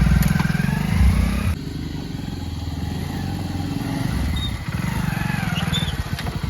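A motorcycle engine idles and revs close by, its low throbbing putter rising and falling in loudness, with a brief dip in the middle before the rumble returns.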